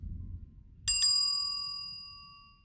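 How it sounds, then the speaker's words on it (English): A small metal service bell is struck twice in quick succession to announce a guest's arrival, giving bright, clear dings whose ring decays slowly in a quiet room. "when you hear this bell ring"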